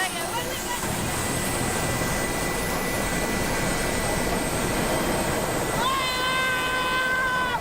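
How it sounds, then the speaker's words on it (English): A London Air Ambulance helicopter at a road crash scene gives off a steady turbine whine and rotor rumble, with tones shifting near the end and people talking nearby. "Joe, we're going to take you over to the helicopter"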